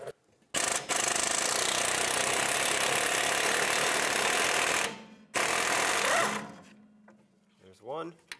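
Rear brake caliper bracket bolts on a 2006-2011 Chevrolet HHR being spun off with a 15 mm deep socket on a power tool, a loud steady rattling whir for several seconds, a brief pause, then another burst before fading into quiet.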